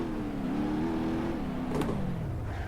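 A White Rhino dually drag truck launching in BeamNG.drive, its engine droning steadily then pitching down as it bogs, with a brief sharp chirp partway through and no voices.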